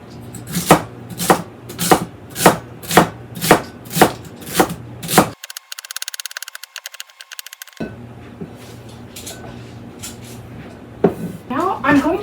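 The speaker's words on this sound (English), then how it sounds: "I'm going to cut them in half lengthwise and then chop them up" A knife chops celery sticks on a cutting board for chicken and sausage gumbo, a run of about eight sharp, evenly spaced thuds up close, then a pause filled with rattling and clatter and quieter handling noises.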